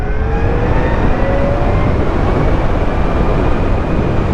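A Zero FXS electric motorcycle pulls away in sport mode, a steady whine of the electric drive rising in pitch under heavy wind rush, loud and continuous throughout.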